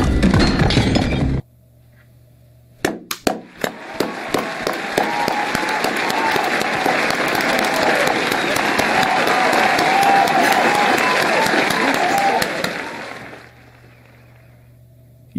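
Audience applause fills a cinema during a Spider-Man: No Way Home screening, starting with a few scattered claps and swelling into loud, sustained clapping and crowd noise for about ten seconds before cutting off.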